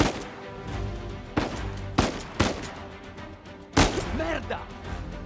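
Gunfire in the action-adventure game Uncharted 4: A Thief's End: several separate sharp shots spread irregularly across the scene, with loud impacts and a voice speaking between them.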